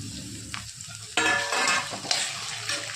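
Onion and tomato frying in a pan, with a quiet sizzle that turns suddenly louder and denser partway through, like food dropped into hot oil, then a steady crackle with a brief scrape.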